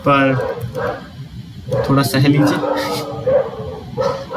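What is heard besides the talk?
dogs barking outside on the road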